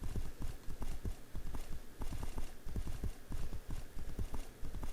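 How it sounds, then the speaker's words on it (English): Horse hooves clip-clopping in the video game Bonded Spirits: a steady rhythmic run of hard, close hoof strikes at a walking pace. "just the click-clack of your boots or the clip-clop of the horse"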